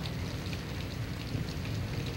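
Steady rain pours down outdoors in a Sesame Street street scene, a dense continuous hiss with a low rumbling undertone that holds at an even level throughout, with no voices.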